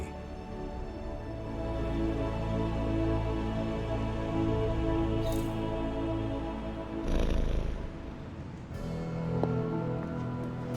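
A cat purrs in Marvel's Midnight Suns, a soft steady purr that continues for several seconds under quiet game ambience and music.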